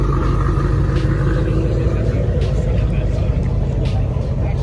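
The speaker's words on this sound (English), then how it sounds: "You can hear that supercharger in that camshaft." A supercharged BMW race car engine on slicks at a car event, a loud close rumbling drone that holds steady and heavy for several seconds without pause.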